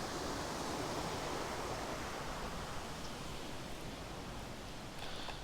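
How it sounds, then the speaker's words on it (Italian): A stream runs beside a hillside cycle path near Limone sul Garda, Italy, in November, making a constant broadband rush of water that stays even and fairly close throughout. "Che bello sentire il ruscello."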